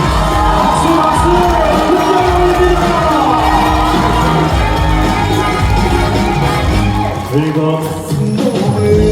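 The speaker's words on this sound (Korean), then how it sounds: "박수 박수" A crowd at a senior cultural centre concert in a Chungju arts hall cheers and whoops loudly and continuously over the music, with a brief dip near the end.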